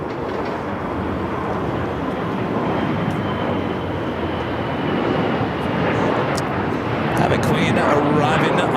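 A Qantas airliner landing on runway 25 left at LAX gives a loud, steady broadband roar that swells slightly toward the end, with faint talk under it.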